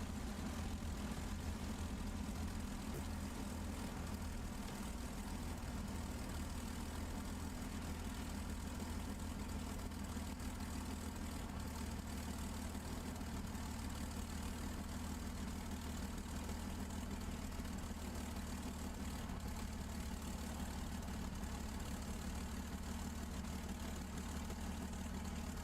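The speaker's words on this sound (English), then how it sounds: "I love the growl of that engine." A P-51D Mustang's piston engine runs at idle, a steady, low, rumbling drone with a propeller throb that holds unchanged and close for the full stretch, with no talking over it.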